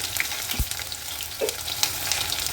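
Garlic cloves sizzle in hot oil with a steady broadband crackle, joined by a brief low thud and a few scattered pops, in a home kitchen while making ginger chutney.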